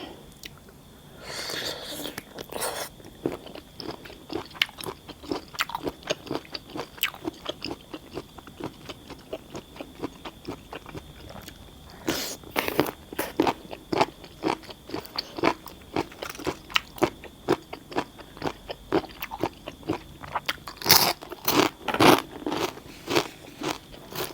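Crisp, close crunching and biting as spicy pounded giant squid tentacles are chewed, rapid irregular crunches continuing throughout with soft breathy speech now and then.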